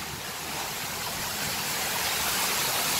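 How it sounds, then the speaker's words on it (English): Roaring waterfall cascade at a PortAventura water ride, a dense steady rush of falling water filling the whole three seconds close to the listener, with no voices. "Big waterfall."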